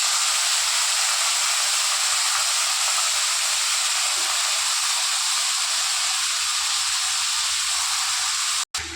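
Steady, loud sizzling hiss of mutton frying in hot oil with cinnamon, continuous throughout, ending with a brief sharp clack.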